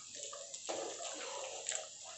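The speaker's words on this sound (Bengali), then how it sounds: "দুধ চাটা জলটা ফুটে গেছে," Water with milk and tea in a pot on a home stove, bubbling at a steady rolling boil with gurgles and a faint hiss throughout, close and fairly soft, no voices.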